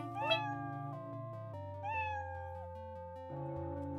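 Cartoonish cat meow sound effects from a beginner-made video game, two bright rising-and-falling meows over a steady synthesized game music bed, loud and close, with no talking.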